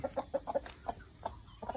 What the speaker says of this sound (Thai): นี่ก็ฟังไก่ดำ